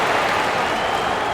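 Dense, steady applause from a large arena crowd during the halftime show of an NBA 2K21 Utah Jazz versus Golden State Warriors game, continuous and close with no voices on top.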